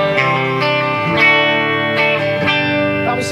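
Electric guitar played through the clean channel of a Marshall JVM210 tube amp, with gain and volume turned down; sustained ringing chords strummed several times, steady and close, with no talking.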